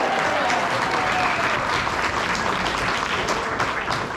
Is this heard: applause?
yes